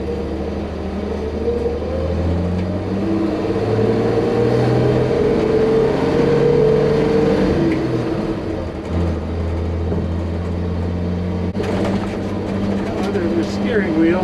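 A 1955 Chevy junker truck drives with its steering just repaired, the engine rumbling loud and near and rising and falling with the throttle. Rattles and road noise run through it, and the tones shift partway through as it changes speed.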